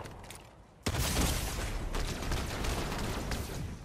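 Fortnite gunfire erupts after a brief quiet lead-in: a sudden loud burst followed by dense, rapid shots and bangs that continue near and loud throughout.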